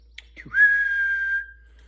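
A single sharp whistled call: a brief chirp, then a rising note held steady for about a second before fading.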